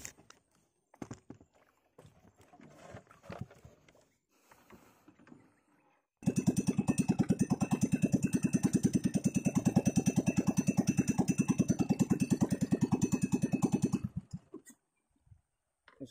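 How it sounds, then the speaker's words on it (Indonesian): Outboard boat engine on a fishing trip is started after a few seconds of quiet bumps and handling, then runs loud and close with a fast steady chug for about eight seconds before cutting off. "Jadi sambil kita hidupkan mesin."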